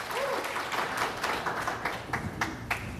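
Audience applause at a gubernatorial debate, a steady wash of clapping from a sizable crowd for about three seconds, moderately loud and without speech.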